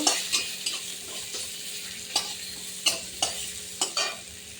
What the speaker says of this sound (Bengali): আলুটাকে দিয়ে দেবো। একটু আমি আলুটাকে একটু নেড়ে চেড়ে নেব।